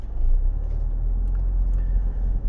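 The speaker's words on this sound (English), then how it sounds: "forgive the noise a little bit, I know we're on a bumpy road" A car rolls along a bumpy campground road at Phipps Campground in Stuart, Florida, giving a steady, loud low rumble of road and engine noise with faint rattles throughout and no talking.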